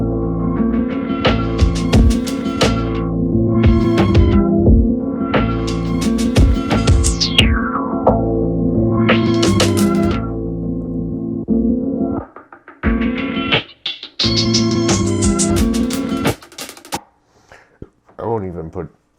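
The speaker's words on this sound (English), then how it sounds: "filter and drive. So that sounds like this." A beat played from an SP-404sx sampler with filter and drive effects applied, dense and loud with sweeping filter movements, a few drops to near silence around the middle, then choppy stuttering bursts toward the end.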